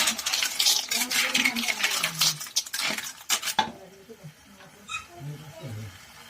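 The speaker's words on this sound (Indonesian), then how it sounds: "Diaduk-aduk lagi, bertangkangnya semuanya terbuka dan bumbu-bumbunya masuk meresap ke dalam" Pensi clams with spices are stirred in a pan, a spoon scraping and clinking against the metal in quick bursts that stop midway, followed by a softer, quieter sizzle and a few faint knocks.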